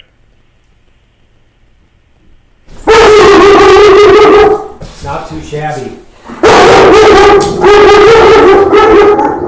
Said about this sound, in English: Sorry, that's the dog there.